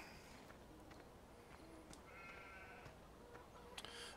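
Sheep bleating in a farming video game, faint repeated animal calls over a low ambient bed, with a few soft clicks and a quiet voice in the background.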